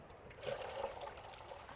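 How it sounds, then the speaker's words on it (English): A small amount of water pours and trickles into a fish trap container outdoors beside a salt pond, a soft continuous dribble heard fairly faint and close, alone with no talk. "I'm gonna put a little bit of water in here."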